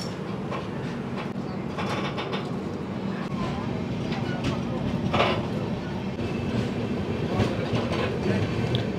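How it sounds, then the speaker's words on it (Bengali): The 13189 Sealdah train pulls into Gazole railway station with a steady, close rumble of rolling rail cars and faint clattering wheel clicks. Voices murmur faintly underneath throughout. "একদম রাইট টাইমে আমাদের ট্রেন ঢুকে গেছে স্টেশনে।"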